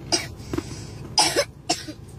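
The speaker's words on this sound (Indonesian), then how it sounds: "Batuk." A few short, breathy coughs in separate bursts, fairly close, with faint background noise between them.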